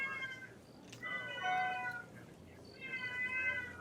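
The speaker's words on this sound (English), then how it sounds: "Do you hear that cat?" A cat meows in a few drawn-out, wavering calls, fairly clear over a low background hum in a home setting.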